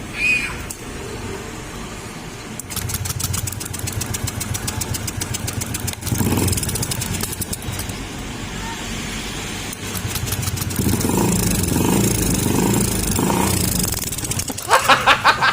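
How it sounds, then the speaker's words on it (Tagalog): A motorcycle engine with its spark plug cap removed for testing cranks and runs roughly, misfiring with uneven, stuttering firing pulses, loud and close, with a harsher burst of revving near the end. "Pero ganun pa rin yung andar niya. Namamalya pa rin."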